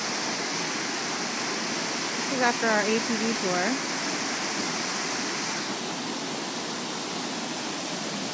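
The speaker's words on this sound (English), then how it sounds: "So this is another waterfall." A waterfall roars as steady broadband white-noise rush throughout, with a person speaking briefly over it partway through.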